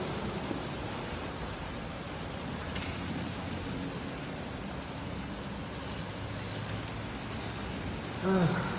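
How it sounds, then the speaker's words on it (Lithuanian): Heavy rain pouring down outdoors, a dense steady hiss of falling water filling the whole span, fairly faint and unbroken, with a brief louder rustle near the end. "Nu, link būdelės sargo einu, bet lietus lyja labai."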